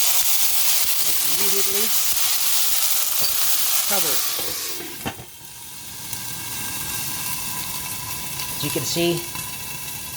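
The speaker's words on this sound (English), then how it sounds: "this creates a lot of steam inside, so you're actually steaming and cooking the green beans" A steady hiss of steam and sizzling from green beans cooking with oregano and water in a covered pan, with a person talking over it and a brief clatter midway.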